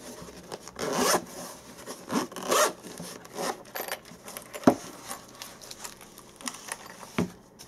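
A zipper drawn around a hard headphone case for Koss SP540 headphones gives a series of close zipping bursts, with sharp clicks and handling rustles between them.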